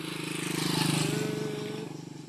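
A motorcycle engine putters steadily nearby on a rural road beside citrus plantings, its rhythmic throb swelling toward the middle with a thin whine, then easing slightly as it moves on.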